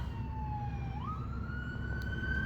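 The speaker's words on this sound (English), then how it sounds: "Here comes ambulance number 3." Emergency sirens from an ambulance and a fire engine pass near a Walmart, a steady wailing tone that sweeps up in pitch, heard over constant road and engine rumble.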